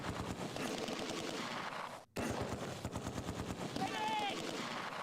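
Dense gunfire and machine-gun bursts in the WWII tactical game Close Combat 2, set during Operation Market Garden, rattling continuously with a brief dropout midway and a whistling tone near the end.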